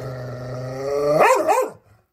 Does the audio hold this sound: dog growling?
yes